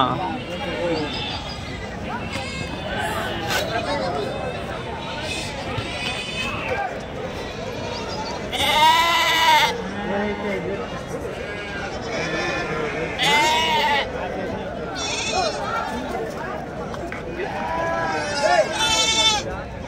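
Several goats and kids bleat loudly in bursts close by at a livestock market amid a crowd of people talking over one another, with livestock shuffling in the background.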